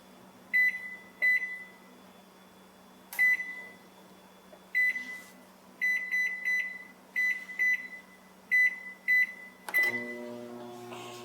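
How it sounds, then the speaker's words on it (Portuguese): Microwave oven running with a steady hum while melting chocolate at medium power, giving a series of short electronic beeps in quick groups, then a louder final chime near the end. "vamos para o micro-ondas, derreter o nosso chocolate"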